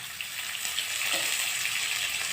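Chopped onions, green chillies, curry leaves, garlic and ginger fry in hot oil, giving a steady, fairly quiet hiss and crackle that runs continuously with no talking.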